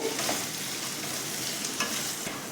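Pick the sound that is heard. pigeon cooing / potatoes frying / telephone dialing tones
potatoes frying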